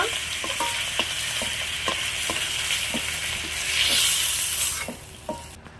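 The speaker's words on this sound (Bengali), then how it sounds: "এবার আমি মাছগুলো ভেজে নেব" Fish frying in a pan of hot oil gives a steady close sizzle, broken by repeated light clicks and stirs, with a louder hiss swelling near the end.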